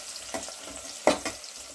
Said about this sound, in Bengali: আর পেঁয়াজ কুচি দেব। দিয়ে ভালো করে লাল লাল করে ভেজে নেব।